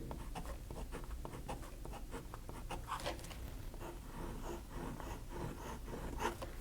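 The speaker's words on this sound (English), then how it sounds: "reverse writing, and again I'll do that with a bit of pressure" A fountain pen nib scratches across paper in reverse strokes under a bit of pressure, producing quiet, close, steady scratchy strokes with no talking.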